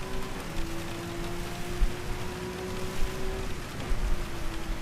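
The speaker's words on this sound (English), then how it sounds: "I see an end to the rain coming." Steady rain hisses with occasional heavier patters in Gran Turismo 7, under a constant low engine-like drone.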